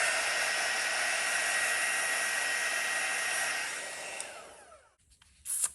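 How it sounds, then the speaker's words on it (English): A heat embossing tool blows hot air over wet metallic paint, a steady close hiss that holds for about four seconds, then tapers and cuts off, followed by a couple of faint handling noises. "So I'll just give it a little hit with the heat embossing tool."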